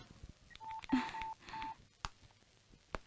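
A telephone number is punched in as a quick run of touch-tone beeps, several short even tones in a row followed by a couple of sharp clicks, close and clear with no talking.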